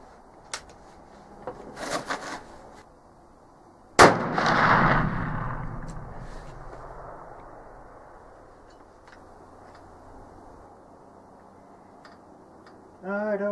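A Traditions Pursuit muzzleloader fires a 240-grain bullet over 100 grains of Blackhorn 209 powder, giving a single loud close-range blast that rings out and slowly decays outdoors, with a few faint handling clicks before it.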